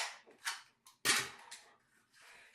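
A Pak-D dart blaster's magazine dropping out and a fresh one slapped in: a handful of sharp plastic clacks and clicks, close and distinct, with brief gaps between them.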